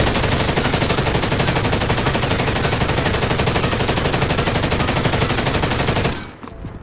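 An MG82 machine gun in Warzone firing a sustained burst of about 75 rounds, rapid, evenly spaced loud shots, then stopping abruptly near the end.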